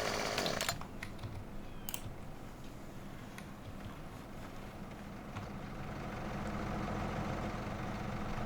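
A wood chipper in Farming Simulator 2017 grinds under a steady idling engine rumble, with a few sharp cracks and knocks early on as material feeds in, no voices.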